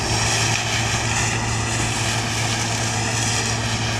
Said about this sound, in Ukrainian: Зараз нехай комбайн трошки від'їде.